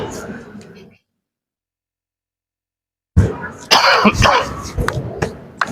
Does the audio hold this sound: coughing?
yes